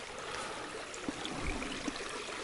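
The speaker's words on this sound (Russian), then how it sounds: "это вот ручей вообще капец. Огромный." A large forest stream rushes steadily, a dense, continuous wash of flowing water with small gurgles and splashes standing out.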